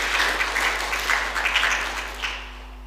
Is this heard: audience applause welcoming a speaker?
yes